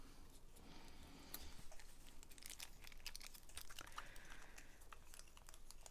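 The end of a rolled paper card for a message in a bottle is unrolled with faint crinkling and crackling close by, quiet and continuous.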